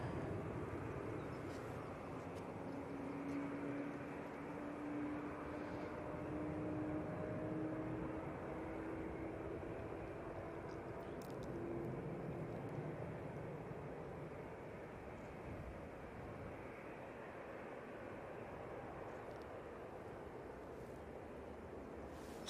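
Qatar Airways Boeing 787-9 Dreamliner taking off for Doha from Manchester Airport, a distant, steady jet roar that holds for over twenty seconds with a faint whine on top, without any voices.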